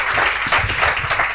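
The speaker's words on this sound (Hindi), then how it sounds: "मैं चाहूँगा एक जोरदार ताली आप बजाएं भाई करण के लिए" A church congregation claps loudly for Brother Karan after his rap at a Sunday service, a dense, steady burst of applause with a few slightly stronger swells.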